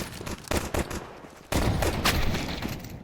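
Bursts of rapid gunfire ring out in a tactical shooter video game, a brief volley followed by a pause and then a longer, sustained stretch of loud shooting with no voices.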